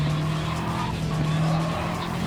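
Race car in a racing video game braking hard, tires skidding and squealing over a steady engine drone, sustained and fairly loud throughout.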